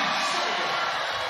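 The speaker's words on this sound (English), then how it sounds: "And the crowd go absolutely bananas" Arena crowd at a women's basketball game between China and Korea at Sydney Olympic Park roars in a dense, steady wall of cheering that stays loud throughout the brief moment.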